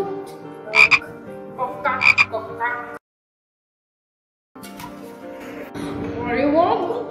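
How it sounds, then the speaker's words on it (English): A frog croaks in repeated throaty bursts over a storytelling voice, then breaks off in a short silence before croaking and talk resume at the end. "It continued to croak."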